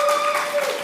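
Audience applause for presenters at a university business pitch competition, steady clapping filling the whole short moment at close range with a faint tonal hum beneath.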